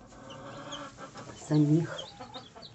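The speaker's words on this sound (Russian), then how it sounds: "Здесь меня мои куры ожидают, ждут, когда я их покормлю." Chickens cluck under a soft murmur of voices, with one louder, closer cluck partway through.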